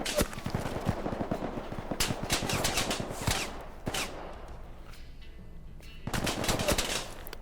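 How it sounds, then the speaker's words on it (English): Gunfire in the Vietnam War VR game Punji: dense rattling bursts of automatic fire and sharp single shots, close and loud, with a brief lull before another heavy volley. "they shot me through the thatch roof, or the thatch hut there"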